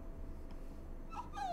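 A wolf whines in the video game WolfQuest: a faint, high, wavering whimper that rises near the end of a brief stretch, set over low background hum.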